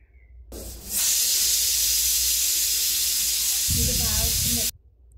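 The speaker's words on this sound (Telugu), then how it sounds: "ఇలా విజిల్స్ వచ్చిన తర్వాత స్టవ్ ఆఫ్ చేసుకొని ఆవిరిపోయిన తర్వాత మూత తీసి" Pressure cooker releasing steam while cooking sambar: a loud, steady rush of hissing that starts abruptly, holds for about four seconds and then cuts off.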